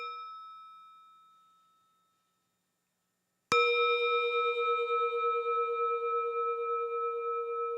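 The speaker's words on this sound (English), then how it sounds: "listening to the bell as it rings into silence" A meditation bell is struck once after a stretch of silence, giving a sharp metallic strike followed by a long, steady ringing tone that sustains loudly and cleanly with no voices.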